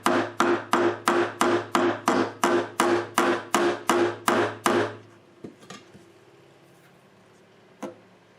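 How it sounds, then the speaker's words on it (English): Around a dozen evenly spaced hammer taps set fret wire into a classical guitar fretboard, sharp and close with a ringing tail on each, then a few scattered softer knocks and a final single tap. "Hammer it a few more times."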